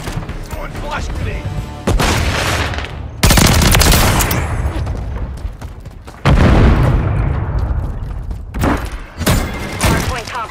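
Bursts of automatic gunfire and a flash grenade blast in Call of Duty: Modern Warfare III multiplayer, loud and close, with several heavy bangs and rattling fire spread across the clip and radio-style voice callouts mixed in.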